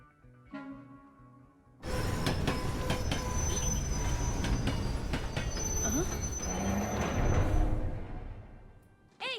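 A train from the animated film Inside Out rumbles along and slows, its wheels squealing and screeching in shrill, wavering tones over a dense, loud rolling roar that runs steadily for several seconds before cutting off abruptly.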